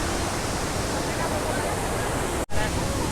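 Iguazu Falls in Argentina roaring as a dense, constant rush of water, loud and close, with a brief dropout midway and no talking.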